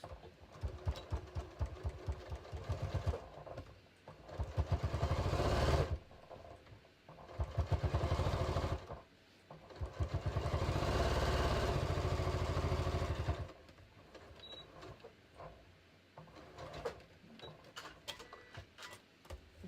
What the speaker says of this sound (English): we're going to stitch through the fly and the seam allowances